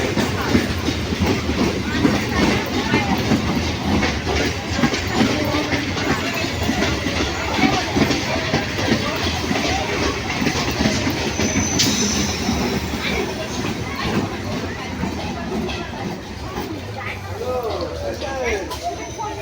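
A down Namkhana local passenger train rumbles steadily close by as it arrives at a platform, with clattering wheels and occasional metallic squeals, a constant dense roar throughout.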